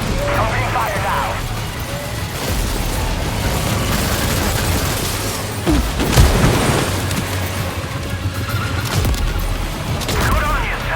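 Gunfire in Death Stranding 2 comes as rapid bursts and booming impacts amid a busy game soundscape, loudest around the middle, with voices speaking over the action.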